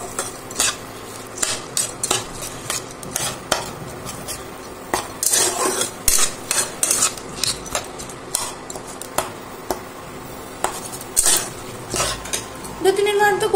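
A metal spatula scrapes and clanks against a pan as masoor rice and dal are stir-fried for khichuri, with repeated uneven knocks and scrapes over a faint sizzle.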